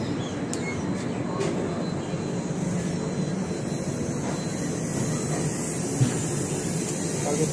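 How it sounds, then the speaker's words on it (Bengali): A passenger train arriving at a platform at Nagpur station, heard as a steady, fairly loud low rumble of wheels and carriages that carries on throughout, with one brief clank near the end. "9:53 ঢুকছে গাড়ি নাগপুরে।"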